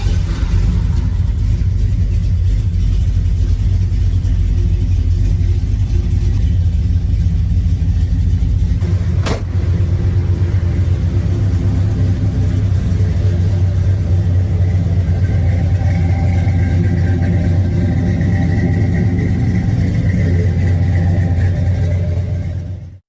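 A 1970 Ford Torino Cobra Jet pulls hard down a quarter-mile drag strip, its loud, deep engine roaring continuously with a brief sharp crack partway through and the pitch climbing as it gains speed.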